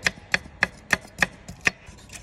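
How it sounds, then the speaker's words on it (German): Knife slicing vegetables into thin slices on a board, about six crisp, evenly spaced chops close by, with no talk. "Die werden jetzt in feine Scheiben geschnitten."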